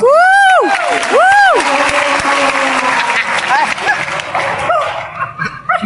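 An audience bursts into loud applause and cheering at a live comedy talk, clapping strongly for the first seconds and then tapering off while voices and laughter continue underneath.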